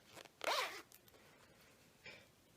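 A zipper on a crocheted bag pouch rasps in one quick close pull, then gives a shorter, softer zip a moment later, in a quiet room.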